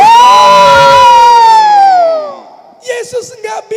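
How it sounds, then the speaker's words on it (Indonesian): At a children's church service, a long, loud cheering shout swells and slowly fades, followed by a few scattered claps and brief voices. "Mari tepuk tangan buat Yesus."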